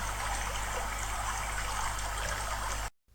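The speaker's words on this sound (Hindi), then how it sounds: "बस आंखें बंद करके नदी की कलकल की आवाज सुनते रहिए" A river babbles near Gushaini, a continuous rushing, bubbling flow of water heard close and steady with no voices, cutting off abruptly at the end.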